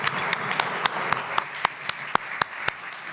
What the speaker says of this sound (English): A round of applause for the two speakers.